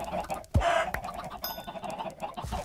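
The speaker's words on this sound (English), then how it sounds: "I got these chickens all over the place here" Chickens scattered around a Minecraft farm cluck in short, close, repeated bursts over a low game background, with a couple of sharper clicks in between.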